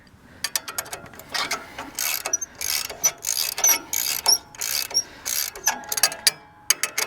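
A ratchet clicks in quick bursts while tightening bolts on rolling cultivators for a Farmall Super A tractor, close and loud with short pauses between strokes, and no talking.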